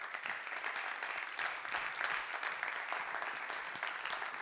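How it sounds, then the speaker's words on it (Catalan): Distant, fairly quiet applause from an audience at a chamber music award ceremony, a sustained even patter of many hands clapping. "jo us demanaria un fort aplaudiment per tots ells i"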